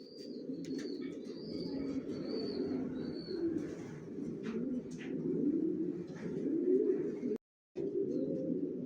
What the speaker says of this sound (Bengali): এখানে এক জোড়া অ্যাডাল্ট কবুতর দেখাচ্ছি